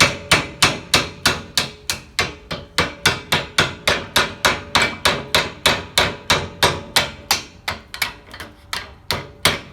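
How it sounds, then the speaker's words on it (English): Rapid, evenly spaced metallic hammer blows, about three per second, ring out loud and close while a stuck shift fork is driven off a Nissan manual transmission shaft. "So we're going to go ahead and hammer this out real quick so we can look at the bore."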